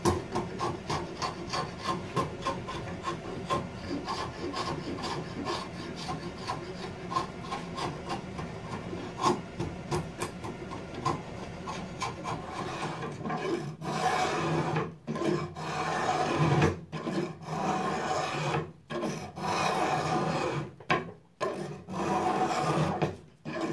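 Steady rasping and scraping of a blade or rasp shaping down an oak walking stick, a continuous close rubbing that runs the whole time and breaks up into choppier strokes with short pauses later, with no voices.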